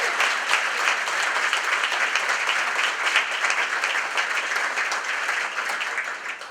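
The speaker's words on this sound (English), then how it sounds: "If we could give her a round of applause and say thank you for her service." An audience gives a steady, sustained round of applause as a tribute to a children's award winner, dense clapping filling the space evenly throughout without pause.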